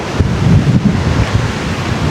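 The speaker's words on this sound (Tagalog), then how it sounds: "Ang hangin dito." Strong wind buffeting the microphone during a night drive in Pangasinan, a loud continuous low rumble with gusty swells and no voices.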